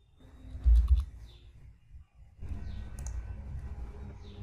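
A PowerShell command is typed on a computer keyboard, a few soft clicks and a louder thump, then a short gap before a steady low rumble of room noise with faint taps, no speech.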